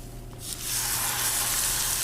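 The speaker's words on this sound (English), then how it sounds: "I like to sear fish first before I throw it in the oven." Fish hitting an oiled hot skillet, bursting into a loud, steady sizzle after a moment of quiet, close up with no voices.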